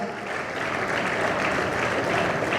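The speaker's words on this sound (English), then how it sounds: "Let us give a big round of applause" Audience applause for trustees of a Sri Krishna Goseva Mandal event in Hyderabad, a continuous dense patter that swells slightly toward the end, with no speech over it.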